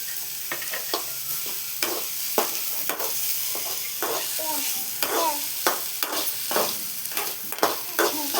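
Tomato sautéed in a pan: constant close sizzling with frequent rhythmic scrapes and clinks of a spatula stirring against the pan, no talk.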